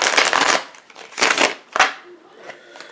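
A deck of tarot cards is shuffled in three quick riffling bursts, close and crisp, followed by faint soft rustling.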